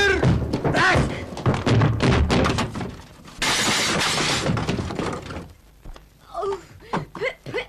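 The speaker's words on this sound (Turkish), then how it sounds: "Kırılmadık şey kalmadı." Dowry items smash and break in a domestic fight, with loud crashes, thuds and a burst of shattering, mixed with agitated voices shouting throughout.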